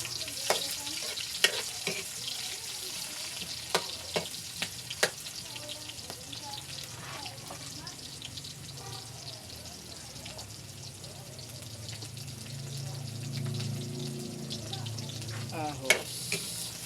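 Onion sautéing in a pan for Filipino escabeche, a quiet steady sizzle with occasional soft ticks and stirring clinks, a low hum rising toward the end.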